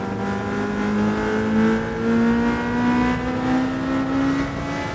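A Mazda 787B race car in GT Sport at Le Mans accelerating flat out, its high, steady rotary engine note climbing in pitch through the gear, loud and close with no talk.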